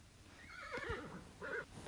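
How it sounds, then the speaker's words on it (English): Horse in a flying-Pegasus video game neighing after being punched by the player: two loud, close whinnies, a long shaky one followed by a shorter one, over faint background game noise. "Can I punch my horse?"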